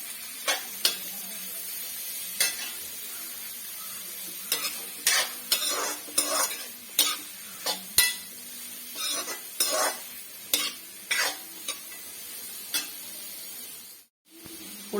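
Chopped onion for a chicken curry base sautés in a pan, a constant soft sizzle punctuated by repeated scraping and tapping strokes of a spoon against the pan, close and fairly loud, with a brief silent gap near the end.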